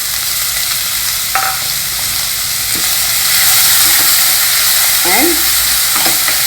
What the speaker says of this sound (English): lightly fry the onions